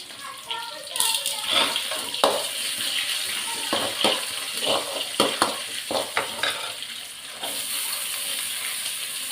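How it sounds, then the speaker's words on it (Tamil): Onions sautéing in a pan while cooking a South Indian lunch of keerai kulambu and podalangai kootu, with steady close sizzling and frying hiss broken by repeated sharp stirring scrapes and clinks of a utensil, no talk. "வெங்காயம் கொஞ்சம் பொன்னிறமாக வதங்கினா போதும்."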